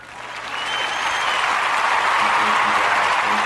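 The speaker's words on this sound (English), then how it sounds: "So let's give them a round of applause." An audience gives a round of applause at a gathering, the clapping swelling in over the first second, then holding dense and loud.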